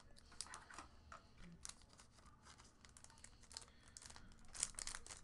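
A die-cut Nani Portugal card from 2016 Panini Spectra Soccer is worked into a plastic sleeve, producing close, quiet crinkling and rustling with small scraping bursts, strongest near the end.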